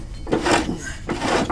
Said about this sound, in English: I need to close the little trap door here